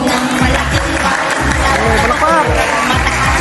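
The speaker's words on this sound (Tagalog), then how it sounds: "Palakpak." Crowd applause at a live singing performance: a steady, dense wash of clapping with a background murmur of voices, loud and continuous throughout.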